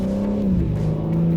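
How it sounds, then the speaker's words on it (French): Loud BMW M3 G80 engine revving steadily close by, its tone dropping mid-way as a gear shift comes through, no talking over it. "puis le passage de vitesse"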